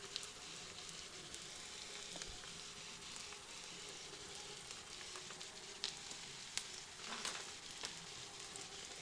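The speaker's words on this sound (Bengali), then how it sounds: "আরও কিছুক্ষণ মশলাটিকে ভেজে নিচ্ছি" Spices with salt, turmeric, cumin and chili powder fry in a pan, a soft, steady sizzle with small crackles and occasional stirring clicks, quiet and close, with no talking.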